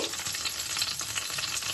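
Whole cumin, bay leaves, cinnamon and cloves are frying in hot oil in a kadai for a shrimp curry, giving a steady, close crackling sizzle with no talking.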